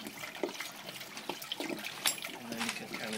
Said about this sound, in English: you want to just get that loosened up and then let the water come out